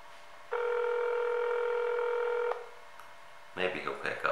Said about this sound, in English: Hopefully I'll be able to get him on the phone.